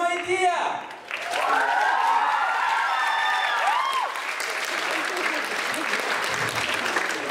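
A studio audience at a school team competition bursts into sustained applause after a short opening sound, while a presenter's voice and musical tones carry over the steady clapping.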